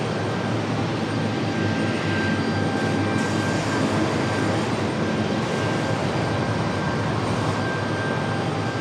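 ATR turboprop aircraft at RDU airport in Raleigh-Durham, heard as a steady, loud engine roar with a sustained whine over a broad rush, with no pauses.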